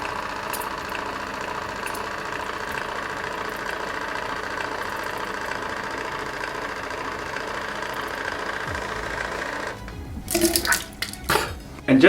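A Waterpik Cordless Advanced water flosser runs inside a closed mouth, giving a steady, close, buzzing motor whir with watery hiss for about ten seconds before it breaks up into sputtering bursts near the end.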